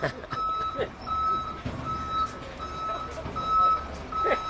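A garbage truck in a city street sounds its reversing alarm, a string of evenly spaced high beeps over engine rumble and traffic noise, moderately near, with a voice talking briefly.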